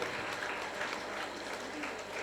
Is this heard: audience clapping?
yes